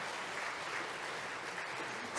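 An audience at a Korean church service honoring a chairman's memoir claps in congratulation, a steady wash of many hands applauding evenly and at moderate distance, with no voices.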